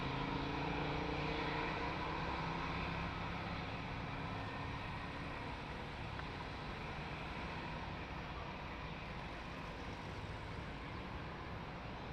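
A fixed-wing airliner landing on runway 02 at Lisbon Airport: a steady, broad engine roar holds at an even level throughout, heard from a distance with no voices.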